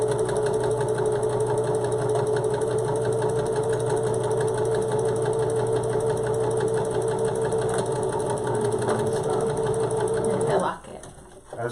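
A sewing machine stitches a seam on a cloth face mask, a steady close mechanical whir with a rapid needle rhythm that runs unbroken for about ten seconds and then stops abruptly.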